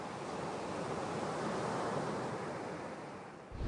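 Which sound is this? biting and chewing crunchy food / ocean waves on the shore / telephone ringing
ocean waves on the shore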